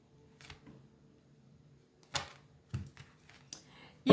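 A deck of tarot cards is cut by hand, producing a few sharp, close card slaps and taps spaced irregularly over a near-silent background, with the last one loudest.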